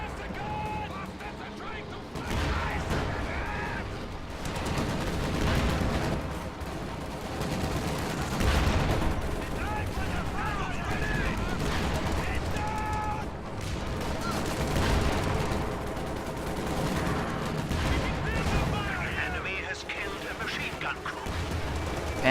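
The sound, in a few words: video game tank battle gunfire, Panzer IV versus Shermans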